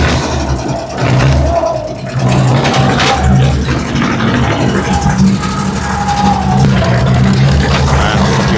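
Dodge Power Wagon truck engine running loud and close while driven in two-wheel drive, a continuous rumbling drone with repeated throttle swells and a brief dip early on.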